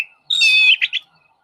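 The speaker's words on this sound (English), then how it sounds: "It's a blackbird." A blackbird sings one clear, whistled phrase of about half a second, ending in two short chirping notes. It sounds close and stands alone against quiet.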